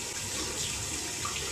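Tap water runs steadily from a faucet as dentures are rinsed under the stream, a continuous close splashing hiss with no talk.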